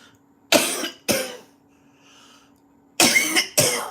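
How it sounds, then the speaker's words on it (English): Four harsh coughs in two pairs, close and loud, with a quiet gap and a faint steady hum between them. "when you're coughing, it's not a good idea to drink"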